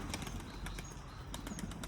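Soft fluttering of wings and shuffling with faint cooing from about 14 pigeons, including two new chicks, in a busy pigeon loft, steady background noise, no talking.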